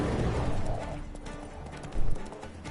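The horse Roach in The Witcher 3 gallops with rhythmic clip-clopping hooves at moderate volume, ending in a short louder thump near the close.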